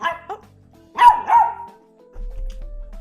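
A puppy gives a few short yips and barks in quick succession, close and clear, followed by a low rumbling noise near the end.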